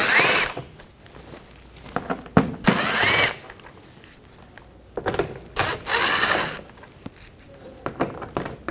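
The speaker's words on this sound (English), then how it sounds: "Underneath, we're going to take these screws out, use a T20 socket, remove all of these." A T20 socket on a power driver backs out screws beneath a 2014-2020 Nissan Rogue 2.5L four-cylinder, giving three short, loud whirring bursts separated by quiet pauses.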